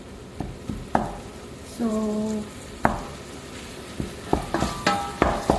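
Ground meat for chili con carne stirred and sizzling in a pan, with scraping spoon strokes and a short tonal clatter of utensils, close and fairly loud; a voice briefly speaks.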